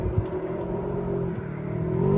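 A 2023 Polaris RZR XP 1000 side-by-side engine idles with a steady rumbling drone, then builds slightly as it starts to pull away, close by and without speech.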